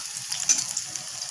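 Rohu fish roe fries in hot oil in a kadai, a soft continuous sizzle with faint crackles and pops, steady and fairly quiet.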